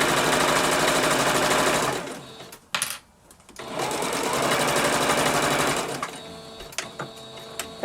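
A sewing machine runs steadily, stitching a seam with a 1/2 inch seam allowance, then stops briefly and starts again for a second run, ending in a few short bursts of back and forward stitching.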